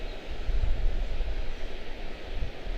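An airliner touching down at Charlotte-Douglas airport, heard as a steady broad roar of engine and rushing air that swells and eases slightly throughout, fairly loud with no voices.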